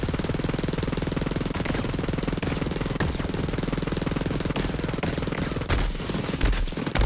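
Sustained rapid-fire minigun from a Moze build in Borderlands 3, a dense, loud continuous mechanical roar with an unbroken rhythm and a few heavier bursts near the end.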